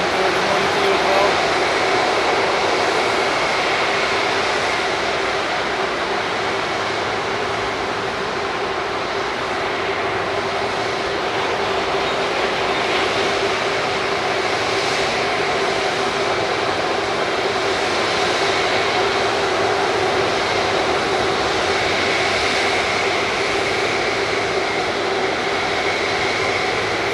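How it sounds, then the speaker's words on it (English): Airliners at Frankfurt Airport on a frosty de-icing day make a loud, steady engine roar close by that runs unbroken throughout, with a voice talking over it. "hear me well because it's very loud so up close to the planes"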